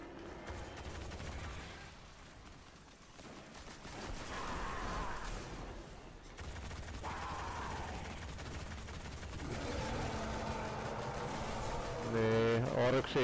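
Rapid weapon fire from the Kingsfall raid in Destiny, with bursts of shots and mechanical clatter running continuously under talking players throughout.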